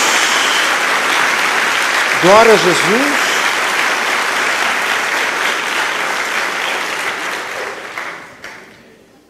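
Church congregation applause, sustained loud clapping from a crowd that tapers off toward the end, with a brief spoken exclamation rising over it.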